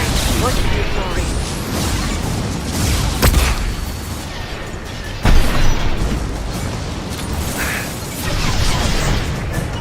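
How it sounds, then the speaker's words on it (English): A flashbang grenade bursts in Mass Effect 2 during a loud firefight, with sharp booms near the midpoint amid continuous mechanical combat noise and voices talking. "Watch out, flashbang"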